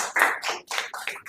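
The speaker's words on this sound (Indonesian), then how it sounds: "silakan boleh aplaus untuk kelompok 1" Brief burst of classroom applause for a student group, several hands clapping in uneven bursts for just over a second, moderately loud and without talk.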